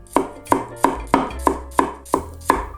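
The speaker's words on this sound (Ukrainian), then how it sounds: "беремо цибулю і нарізаємо" A knife chops an onion on a board in eight crisp, evenly spaced strokes, loud and close, with no talking.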